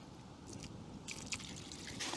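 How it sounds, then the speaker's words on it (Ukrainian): Water is poured into a groundbait mix for feeder fishing on the Dnipro river in late autumn, a soft trickling and splashing pour at close range in a quiet outdoor setting. "Водички наливаємо"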